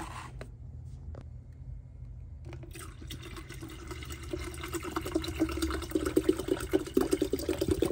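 Running water pours steadily from a tap, the splashing growing louder and fuller toward the end as a vessel fills for boiling.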